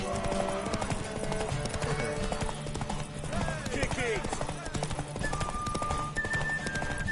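Steady clip-clop of galloping horse hooves in a video game, under shouted talk and battle noise, with a brief whinny.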